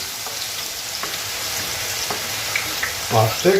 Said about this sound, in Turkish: direkt soğanlarımız bol yağın içinde kızarmaya başladılar bile.